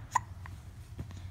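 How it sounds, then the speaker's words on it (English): A baby's single small hiccup, sharp and brief near the start, with faint soft sounds after it in a quiet indoor room. "Hiccups."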